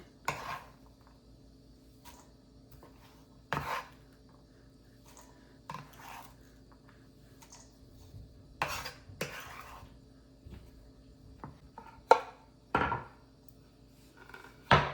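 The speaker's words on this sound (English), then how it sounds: "Your thyme, you just cut it like that." Fresh thyme being cut for a Jamaican oxtail dish, a few sharp knife taps and scrapes against a board spaced out by quiet pauses, close and fairly soft with no talking.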